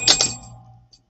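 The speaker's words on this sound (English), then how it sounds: "Oops, dropped the bell." During a live tarot reading session, a small bell is dropped and gives two quick bright metallic clinks followed by a fading ring that dies away within a second.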